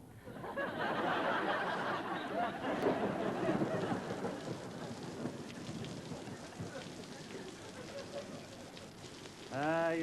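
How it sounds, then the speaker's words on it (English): Thunder rolls through a steady downpour in a British summer storm, a long rumbling wash under heavy rain, with a sharp crackling rumble breaking in near the end. "thunder."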